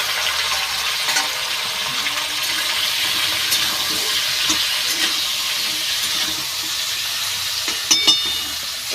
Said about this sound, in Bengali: এইবার ভেন্ডিগুলো ভালো করে ভেজে নেব।